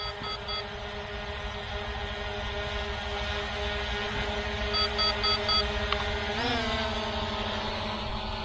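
A ZLRC SG906 Pro 2 drone flying, producing a steady mechanical whine with stable tonal bands that hold for the whole stretch, fairly loud and close. Short electronic beeps come through now and then, and the pitch shifts briefly near the end.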